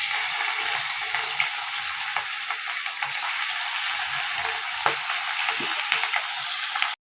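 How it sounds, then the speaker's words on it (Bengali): Pieces of rohu fish frying in hot mustard oil in a kadai, a loud, even sizzle running steadily with small pops and crackles until it cuts off abruptly. "তো তেলটা গরম হয়েছে, এবার আমি মাছগুলো ভেজে নেব।"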